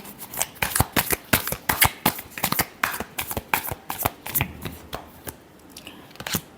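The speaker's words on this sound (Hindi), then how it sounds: "last shuffle" Tarot cards shuffled close up by hand in a rapid run of crisp riffling snaps, about a dozen quick bursts in an uneven rhythm with brief pauses between them.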